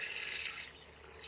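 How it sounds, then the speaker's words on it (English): Sugar water pours into a plastic wine fermenting bucket for a three-gallon mango wine batch, a steady close hissing trickle that eases slightly partway through. "We're ready to add that sugar water."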